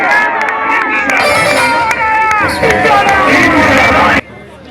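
Crowd at a PML-N political rally in Marh Balochan applauding and cheering while standing, a loud, dense wash of clapping and voices that cuts off abruptly near the end.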